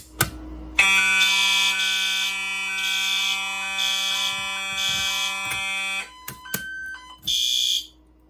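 A Silent Knight 6808 fire alarm system sounds after a pull station is activated: a loud, steady electronic alarm tone with pulsing high buzzing bursts, cutting off near the end with a few brief chirps and a final short burst.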